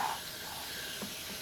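A steady hiss of soap sprayed from an aerosol can onto a Jeep factory steel wheel, one continuous close spray burst with no pauses.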